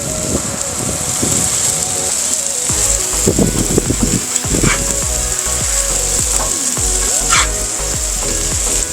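A bacon smash burger made with 50/50 beef and sausage sizzles on a griddle with a constant bright hiss, while a spatula clinks and scrapes in irregular knocks close by.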